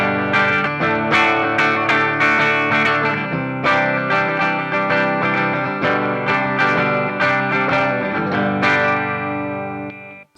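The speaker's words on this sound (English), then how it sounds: "So bridge pickup in full humbucker mode." An electric guitar's bridge humbucker pickup in full humbucker mode gives a thick, distorted tone, playing a run of loud, sustained chords and notes that ring out before stopping abruptly.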